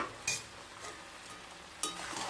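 Fried eggplant and fish head are stirred into chhyachra curry in a pot, giving two soft scraping strokes over a faint background sizzle.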